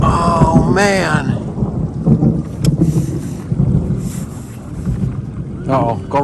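Thunder rolls over a lake during a storm, heard from an aluminum boat, as low rumbles under heavy wind buffeting, with voices breaking in now and then.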